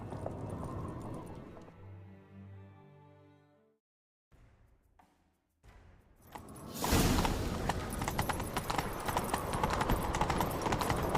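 Rhythmic clip-clop of galloping horse hooves in The Witcher 3: Wild Hunt swells in after a brief quiet stretch, loud and close, mixed with game music and effects.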